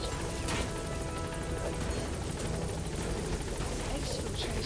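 A helicopter in Metal Gear Solid V: The Phantom Pain roars with a dense, continuous rotor drone that stays loud and even throughout.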